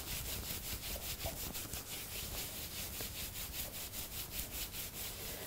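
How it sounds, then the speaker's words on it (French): Hands briskly rubbing the skin of the legs during a morning yoga warm-up: a continuous close, soft scratchy friction with a fast, steady back-and-forth rhythm, no talking. "on frotte les jambes"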